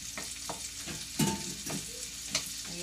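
Garlic and onion are being stirred in a hot pan for lechon paksiw made with roast turkey, giving a soft sizzle broken by several scraping, clattering strokes of a spoon.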